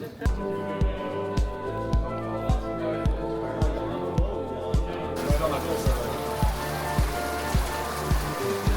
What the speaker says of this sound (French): Première grosse averse du GR.